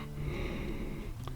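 A voice imitates loud snoring with a continuous rough, nasal snort-and-wheeze rasp that lasts over a second, close and fairly loud, with no other talk.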